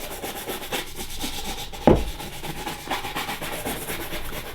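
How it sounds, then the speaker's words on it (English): A brush sweeps dust and dirt off military shoes in quick back-and-forth rubbing strokes, close and dry, with one sharper scrape midway and no talking. "I'm going to use this brush to help me to get rid of all that dust and dirt"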